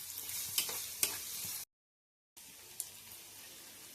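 Honey chicken being stirred in a pan, a soft sizzle with a couple of sharp clinks and scrapes of the utensil, cut by a brief silent gap before the quiet sizzling resumes.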